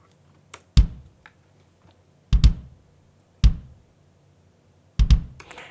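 Acoustic kick drum from the Logic Pro Indie Live kit, quantized to sixteenth-note triplets, thumping out four solo hits with short decays and no other instruments.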